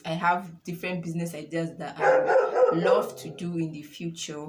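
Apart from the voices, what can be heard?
dog barking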